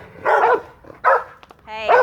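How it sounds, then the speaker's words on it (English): Two dogs bark back and forth in a house, one of them a hyped-up, excitable female; three bursts of close, loud barking with short yips and whimpers between them, no talking. "Y'all quit barking at each other."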